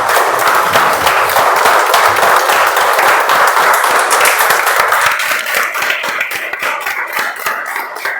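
An audience claps after a speech, dense steady applause filling the room, loud and sustained, thinning into scattered individual claps toward the end.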